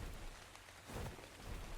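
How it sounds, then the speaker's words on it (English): Rain beginning to fall in the survival game Ark, a soft steady hiss of rainfall with a low rumble swelling midway, no voices. "Look, right there it is. Rain!"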